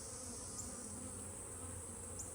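Steady honey bee buzzing near a hive, a soft continuous drone from many insects at close range with no voices.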